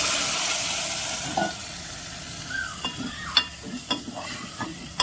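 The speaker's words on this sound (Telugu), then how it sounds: "కలిపి పెట్టుకున్న చికెన్ వేసుకోవాలి, ఇందులో వేసుకోవాలి." Chicken pieces hit a pan of ginger garlic paste frying in hot oil, a steady close sizzle broken by sharp scraping stirs and clacks of a spoon in the second half.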